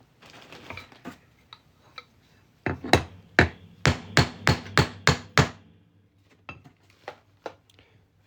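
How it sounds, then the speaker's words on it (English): A punch hammered through a Georgia quarter coin to make a coin ring, sounding as a burst of sharp metallic strikes in a fast, loud, close series, followed by a few lighter, more widely spaced taps. "we're just going to hammer that on through."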